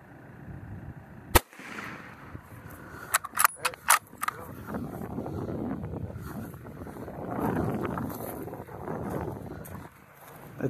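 A single sharp rifle shot cracks out close by while hunting a giraffe in open, windy country, followed by a few smaller clicks and knocks, with wind buffeting and voices in the background.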